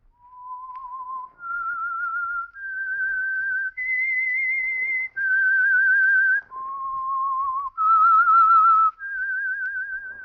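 A person whistles a clear, bright melody of sustained notes, stepping up and down in pitch, with no other sounds.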